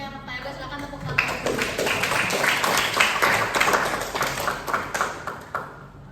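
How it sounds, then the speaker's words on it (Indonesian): Students in a high-school coding and artificial intelligence class break into brisk, close applause that builds quickly and continues for several seconds before tapering off. "Silakan tepuk tangan."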